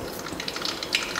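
Mustard seeds crackle and pop in hot oil, a dense sizzling hiss with sharp little bursts scattered throughout, close and steady.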